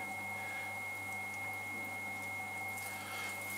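Water running onto wet clay while a pitcher is thrown on a potter's wheel, a steady faint wash with a constant motor hum beneath, no voices.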